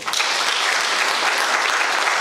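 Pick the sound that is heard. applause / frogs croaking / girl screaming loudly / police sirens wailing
applause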